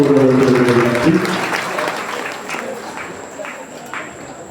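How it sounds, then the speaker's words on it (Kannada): Loud applause from a crowd at a felicitation ceremony for devotees and a swamiji, rising as a voice fades out and then holding as a steady, dense patter of many hands through to the end. "ಜೋರಾದ ಚಪ್ಪಾಳೆ ಮುಖಾಂತರ ಕಾರ್ಯಕ್ರಮವನ್ನು ಯಶಸ್ವಿಯಾಗಿ"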